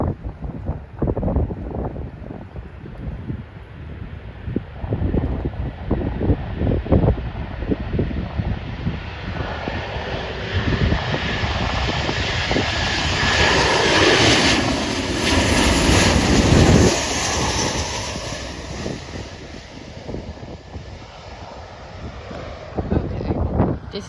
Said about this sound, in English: this is a Southwest Airlines Boeing 737-700 coming from Pittsburgh